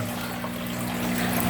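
Water is poured into a home aquarium during a water change, making a steady, close splashing rush with a low hum underneath and no talk.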